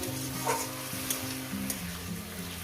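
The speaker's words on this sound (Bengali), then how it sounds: "শিমটাকে দিয়ে আমি চার পাঁচ মিনিট আমি ভেজে নেব" Flat beans frying and being stirred in a pan, a steady close sizzle with scraping spoon strokes at intervals and no talk.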